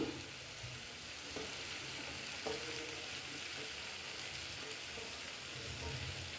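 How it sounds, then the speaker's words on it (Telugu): Tender amaranth stems fry in a pan for a masala curry with chana dal, a steady, soft sizzle with light stirring scrapes and faint knocks, fairly quiet throughout. "తోటకూర కాళ్ళు కూడా వేసేస్తున్నాను"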